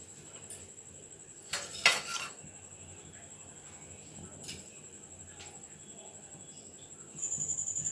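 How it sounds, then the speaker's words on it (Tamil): A pressure cooker is set down and handled on a gas stove while cooking pav bhaji: a few sharp metallic clanks and knocks, one louder clatter, then quieter handling noises and a soft hiss near the end. "இப்போ குக்கரை கேஸில் வச்சுருக்கேன் குக்கரை ஆன் பண்ணுறேன்"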